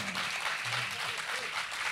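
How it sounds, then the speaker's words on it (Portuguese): A crowd claps in a dense patter of applause, with faint voices mixed in underneath. "Palmas ah, pro Novelli."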